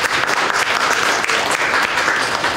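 An audience applauds at a Russian-language conference session with speakers from education and charity circles. Continuous dense clapping is heard close and loud throughout, with no pause.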